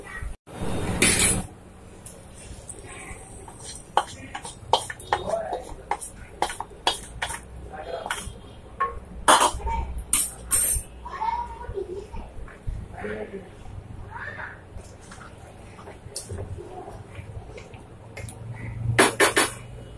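Metal pots and utensils clink and scrape repeatedly as a curry-leaf and shallot tempering is poured into a curry, sharp bright clatters scattered among quieter stirring, with a voice talking at times.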